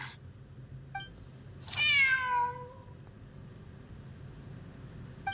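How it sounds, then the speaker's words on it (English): A single cat meows clearly in Genshin Impact, a drawn-out, falling cry of about a second, with soft chirps just before and after over a quiet game ambience. "The cat!"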